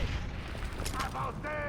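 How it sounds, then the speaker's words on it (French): A grenade blast in the video game Far Cry 4, a loud rumbling boom over constant battle noise, with brief voice bits from the game. "Je balance une grenade."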